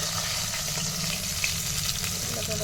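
Chicken pieces frying crisp in hot oil, giving a steady, close crackling sizzle that holds even throughout.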